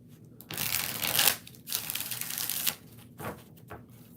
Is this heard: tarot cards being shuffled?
yes